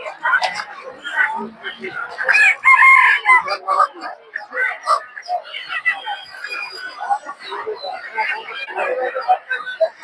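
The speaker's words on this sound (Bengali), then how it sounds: "দর্শক দেখতে পাচ্ছেন অনেকগুলো দেশি মুরগি" Native chickens at a busy poultry market in Tongi, with roosters crowing and hens clucking in dense, overlapping bursts, loud and close, while people talk throughout.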